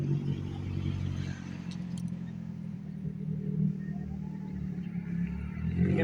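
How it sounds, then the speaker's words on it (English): A passing vehicle with a loud exhaust tailpipe rumbles steadily nearby, its low engine drone swelling slightly toward the end with no talk over it. "I got a tailpipe coming."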